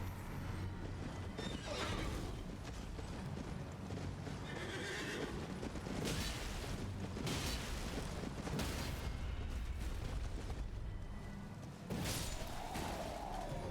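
A horse whinnies amid continuous Elden Ring game noise, with hoofbeats and rumbling booms in a loud, busy mix.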